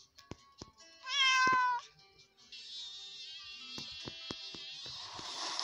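A cat in the Play Home Plus mobile game lets out a single clear, drawn-out meow, framed by light tapping and clicking sounds with a soft electronic hum afterward.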